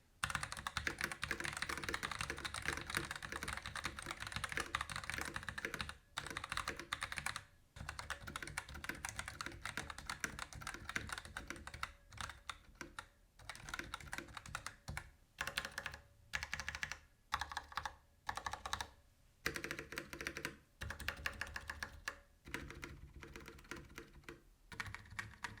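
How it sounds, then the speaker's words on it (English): Steady, fast typing on a Razer BlackWidow Lite mechanical keyboard, with and without O-rings, dense clicky keystrokes with brief pauses, close and loud throughout, with no talking. "here's a sound test of what the keyboard sounds like with and without the O-rings"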